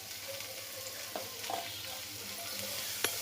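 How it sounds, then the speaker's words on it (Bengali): Winter vegetables frying in a little oil with turmeric give a soft, steady sizzle with a few light stirring clicks and scrapes, close by and without talk. "এখন সবজিটা একটু নেড়ে চেড়ে ভেজে নেব।"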